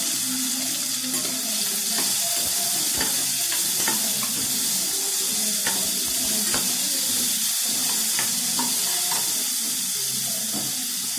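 Chopped onions sizzle and fry in a pan with fennel and cumin while a spoon stirs, giving a steady hiss under scattered scraping clicks throughout, with no voices.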